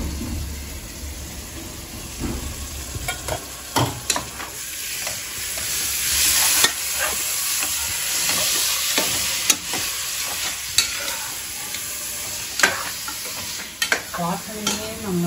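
Ground tomato paste sautéing and sizzling in a pan for prawn biryani, with a steady frying hiss broken by repeated scrapes and taps of a stirring spoon, close and alone.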